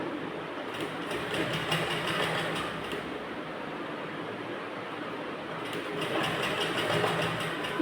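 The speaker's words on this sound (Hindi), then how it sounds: "यहाँ से एक एक करके स्टिच कर लेंगे।" A sewing machine runs continuously while stitching a blouse, giving a steady, fairly quiet mechanical whir that swells slightly near the end, with no voices.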